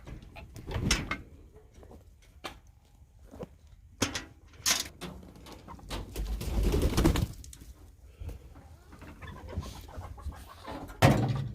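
Backyard chickens cluck and coo in short scattered calls around a compost pile, some near and some farther off, with small rustles and thumps between them and no talk.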